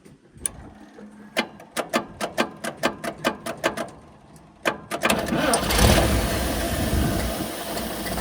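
A 1955 International R160 dump truck engine cranks in a steady run of rhythmic starter pulses, pauses, then catches briefly and sputters into a rough, loud, uneven run.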